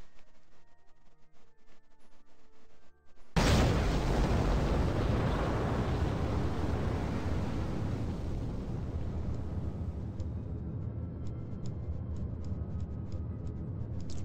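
A rocket engine fires in Kerbal Space Program with the RP-0 mod: after a few seconds of quiet, it bursts into a loud, broadband roar that holds steady and slowly settles to a sustained rumble through the rest of the burn.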